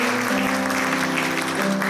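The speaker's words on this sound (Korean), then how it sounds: "네, 박수." Applause from a church congregation welcoming a guest at a Sunday worship service, steady clapping filling the room over a sustained low musical drone, with no talking.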